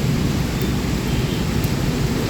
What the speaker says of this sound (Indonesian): malam ini kembali diguyur hujan